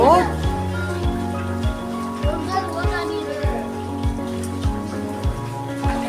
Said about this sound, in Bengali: উঠে আয় বৃষ্টি পড়ছে